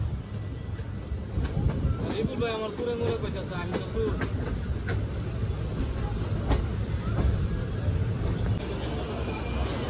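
The Simhadri Express rolls into Nidadavolu Junction with a continuous rumbling clatter of wheels and carriage, heard from on board, while faint voices come and go in the background.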